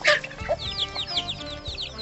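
Several sick chickens with swollen eyes cluck in a farm yard, a quick series of soft, close clucks and short calls over about two seconds, with no talking.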